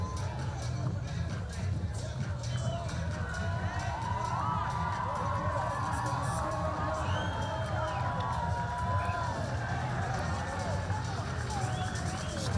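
A large crowd gathers outdoors at a strongman log carry in England, producing a steady hubbub of chatter, shouts and cheers, with a voice speaking over the noise throughout.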